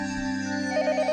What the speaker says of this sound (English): The phone continued its incessant ringing.